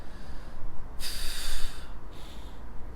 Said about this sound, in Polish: jak robisz planka, to powinieneś w ten sposób oddychać